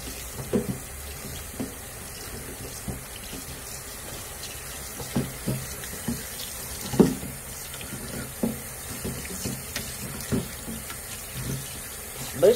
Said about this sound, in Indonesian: sekarang kita nak cuci daging kita menggunakan air, laluan air pipe, running water tap.